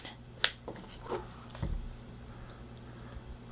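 Owl Alert motion-triggered alarm gives three evenly spaced high-pitched electronic beeps, each about half a second long, clear and close, with a few faint handling knocks between them.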